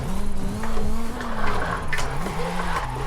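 Drift car engine in Forza Horizon 5 bouncing off the rev limiter, a loud, continuous buzzing engine note with rhythmic stutters and tire squeal throughout.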